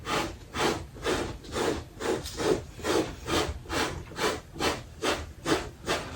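Conditioner is rubbed by hand into the worn leather of a massage chair, making a steady rhythmic swishing, with about a dozen even back-and-forth strokes close up and no talk.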